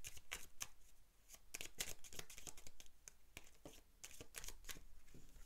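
Tarot de Marseille cards being shuffled by hand in a series of quick, crisp riffling bursts with short pauses between them, close and fairly quiet, with no voices.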